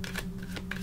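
Tarot cards being shuffled for a reading, quick, soft riffling bursts close to the mic with steady hum beneath.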